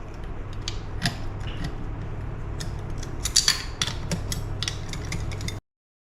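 Rapid ratcheting clicks from a hand tool tightening screws around the crankshaft of a Honda CR125 engine, steady close-up clicking with a few sharper metallic knocks, ending abruptly in silence.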